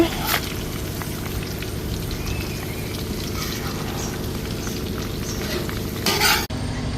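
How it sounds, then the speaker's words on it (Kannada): Kodde fish fries in a pan with a dense, continuous close sizzle and crackle, with a brief louder scrape of a utensil near the end. "ಕೊಡ್ಡೆ ಫ್ರೈ ಆಂಡು"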